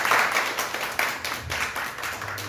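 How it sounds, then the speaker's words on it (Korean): Korean church congregation claps for a visiting missionary during a Sunday service, a fairly close, irregular patter of many hands with slight rhythmic surges, no talking over it. "선교사님 인사하실 때 박수"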